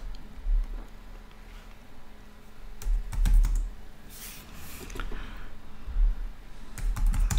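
Computer keyboard typing and mouse clicking come in scattered bursts of sharp taps, close and moderately loud, with brief pauses between runs and no talk.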